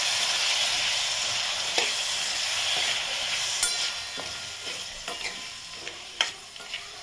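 Boiled potatoes and masala fry in a pan for batata poha, a steady close sizzle with occasional sharp scrapes and clinks of stirring.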